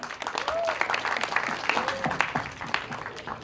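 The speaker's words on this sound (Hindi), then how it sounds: "भूषण जी को एक बार जोरदार ताली चाहिए" Audience applause at the Border 2 film teaser launch event, a dense steady wash of clapping across the whole stretch with a couple of brief rising whistles or tones above it and some voices mixed in.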